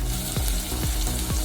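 Green peas with peanut and coconut paste frying in a spiced tempering, a close, steady sizzle with a few soft stirring scrapes at a regular pace, no voices.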